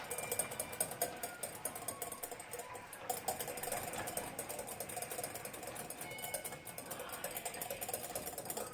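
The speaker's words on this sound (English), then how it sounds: "So just continue to whisk it up." A whisk beats hollandaise sauce in a bowl, a continuous rapid scraping and sloshing rhythm that stays steady and fairly quiet, with no voices.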